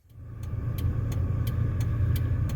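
A 30-year-old pickup truck with 330,000 miles pulls away on a road trip, its engine rising from quiet to a steady, close, low rumble with faint regular ticks above it.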